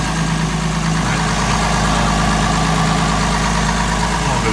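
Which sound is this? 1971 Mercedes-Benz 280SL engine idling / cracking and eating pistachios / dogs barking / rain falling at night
1971 Mercedes-Benz 280SL engine idling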